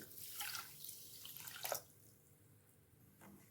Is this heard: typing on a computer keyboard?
no